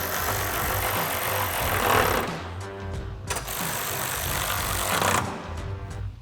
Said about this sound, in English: we'll grab our ratchet and 10mm socket and tighten these top 2 ones down